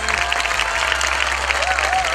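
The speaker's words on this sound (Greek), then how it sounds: "μπράβο και πιο δυνατό χειροκρότημα για τα παιδιά μας." An audience claps steadily for children at an end-of-year finale event, a dense, continuous wash of applause lasting the whole moment, with a voice faintly over it.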